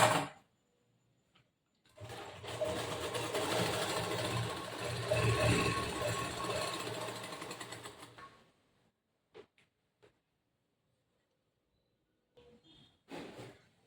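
A sewing machine runs a second line of stitching over an existing seam on a boat neck blouse, a steady mechanical whir of about six seconds that then stops, followed by a few faint handling clicks and a brief burst of motor noise.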